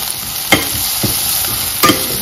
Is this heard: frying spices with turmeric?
yes